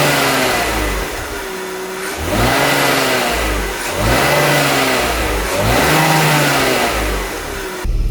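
A BMW E46 engine, recently repaired for an ignition fault on worn cylinders, revs up in three or four smooth rising and falling pulls from idle, loud and close, with no talk.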